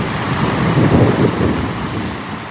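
Heavy rain pours steadily over open farm fields in New Hampshire, with a low rumble of thunder swelling through the middle; loud, close and continuous, with no voices.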